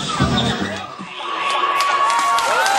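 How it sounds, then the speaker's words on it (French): A crowd at a Téléthon 2013 dance show in Hazebrouck applauds and cheers loudly, with whoops and shouts rising over steady clapping. "Applaudissements."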